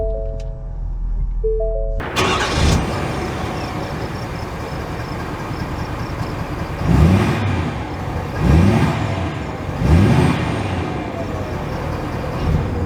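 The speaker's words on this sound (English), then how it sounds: "Setting off in the F-350, and we're actually going to put it into the sport traction mode." A 2022 Ford F-350 Limited pickup truck starts moving from a standstill after a few short chimes, then drives on with a steady road rumble and three rising engine surges a couple of seconds apart.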